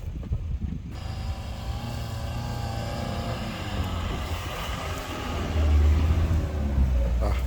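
A GWM P300 pickup driving off-road, its engine a steady low rumble that swells louder near the end as it pushes on, heard close with some wind and no clear talk.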